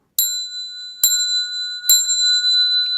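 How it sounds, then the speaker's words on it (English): A small Buddhist temple bell is struck three times at even intervals before bows, each strike ringing out clearly and sustaining a bright, lingering tone. "Here's the bell."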